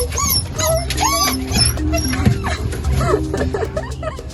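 Small dogs whimpering and yipping indoors while being taken upstairs, high squeaky whines and yelps scattered across the clip with household background noise.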